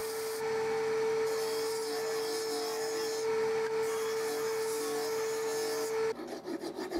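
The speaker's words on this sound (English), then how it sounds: "refined the shape and rounded the edges on the belt sander" A belt sander rounds the edges of plywood parts, with a loud steady motor drone and abrasive rasping that swells as wood is pressed against the belt, then tapers off at the end.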